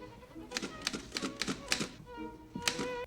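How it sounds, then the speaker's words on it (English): Typewriter keys strike in a quick irregular burst of about eight clacks. A pause follows, then two more strikes. The sound is close and fairly loud, with faint background noise. "Bro, the typewriters,"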